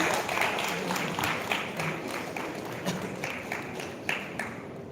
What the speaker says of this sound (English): I request you all to give a round of applause.